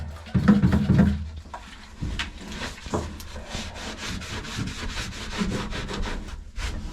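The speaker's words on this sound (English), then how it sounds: "I notice some parts that I want to sand down a little bit more" Power sanding on wood inside a boat's anchor locker gives a steady rough rubbing whir with brief louder knocks early on, continuing at moderate level throughout.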